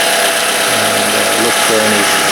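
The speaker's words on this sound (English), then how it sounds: "with the engine running, it's just idling" A 2010 Toyota Camry idles steadily while jacked up, a low continuous engine hum running beneath a voice for a couple of seconds.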